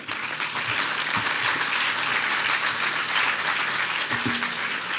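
An audience at an awards event gives a sustained round of applause, dense even clapping from a large crowd with a few brief shouts standing out over the steady wash.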